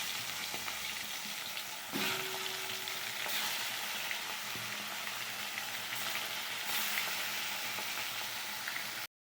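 Pieces of stingray fish are slipped one by one into well-heated oil, giving a continuous close sizzle with a few brief splashy crackling bursts as each piece goes in, before the sound cuts to silence.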